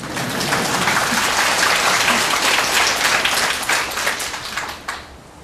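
An audience at a Buddhist sutra lecture claps in dense, even applause that fills the room for about five seconds, then fades.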